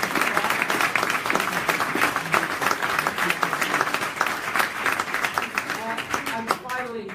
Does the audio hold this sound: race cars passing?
no